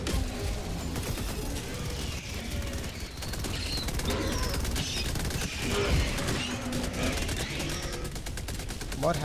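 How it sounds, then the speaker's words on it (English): Rapid automatic fire from a machine gun sentry in Helldivers 2, dense bursts of gunfire rattling almost continuously under a busy battle soundscape. "Right, send Machine Gun Sentry."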